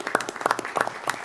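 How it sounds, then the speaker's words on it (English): Applause from an audience at a school district special meeting, honoring finalists: dense, steady clapping close by for just over a second, with no talk over it. "Let's give them all a round of applause."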